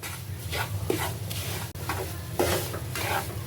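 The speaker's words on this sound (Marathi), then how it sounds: "बेसन भाजायला तसा थोडा वेळ लागतो" Gram flour (besan) roasting in a pan while being stirred for barfi: soft, rhythmic scraping strokes of a spoon repeat every half second or so over a low, steady sizzle, close and moderately quiet.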